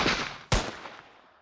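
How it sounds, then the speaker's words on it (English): Gunshot in a comedy audio drama, two sharp loud bangs half a second apart, the second heavier with a long fading echo tail, close and alone. "I was aiming to shoot the gun out of his hand"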